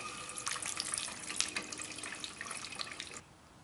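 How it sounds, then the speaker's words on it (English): A hot steel adze head, being reforged into a celt tomahawk, is quenched in warm oil, giving a steady crackling hiss and sizzle for about three seconds that cuts off abruptly into a quiet room. "I heat it up just a little bit beyond that and then quench it in warm oil"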